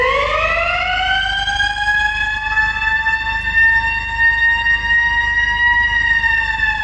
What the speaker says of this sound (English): So that's the Q siren mechanical there.